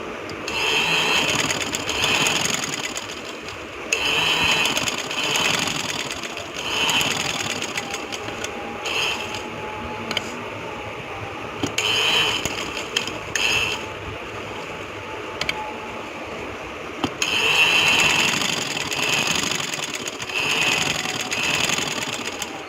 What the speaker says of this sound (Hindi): अब हम आपको नाले की सिलाई लगा के दिखाते हैं।